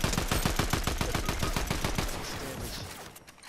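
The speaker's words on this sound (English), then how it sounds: "Oh, they're shooting." Rapid bursts of automatic gunfire in a video game, dense repeated shots crackling close and loud for most of the stretch before thinning out near the end.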